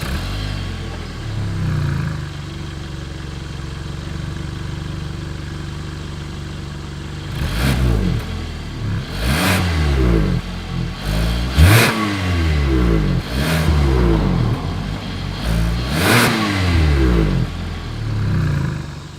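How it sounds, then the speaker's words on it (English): A 2021 Hyundai Tucson SUV idles through its exhaust, then breaks into a series of sharp, loud revs that rise and drop back roughly every couple of seconds, heard up close with no talking. "As always, here is that exhaust clip."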